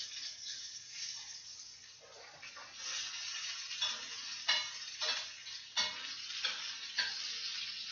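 Meatballs sizzle in a hot pan with a steady hiss, broken by a few louder bursts and faint clinks as they are turned or stirred close by.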